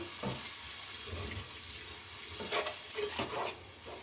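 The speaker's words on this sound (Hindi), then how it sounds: "اس کو اچھے طریقے سے اس میں مکس کر لیں۔" Spoon stirring turmeric, coriander, cumin and chili powder into black chickpeas and spinach in a pan, quiet scraping and soft sizzling with a few clinks, close and without talk.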